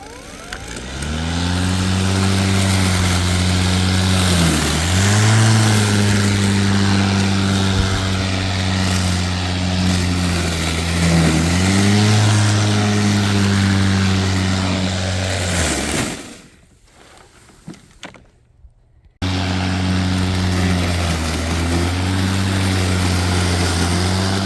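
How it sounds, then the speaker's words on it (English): Loud, steady engine drone of a bagged lawn mower vacuuming up hay close by, pitch dipping now and then under load, cutting out briefly before starting up again. "So we're just going to put the bag onto the lawnmower"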